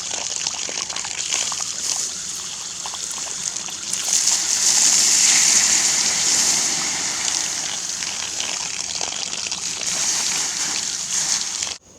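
Water from a flowing well splashes and gurgles steadily over a hot John Deere tractor transaxle, a close, continuous sloshing stream that swells louder in the middle, with a hissing spray.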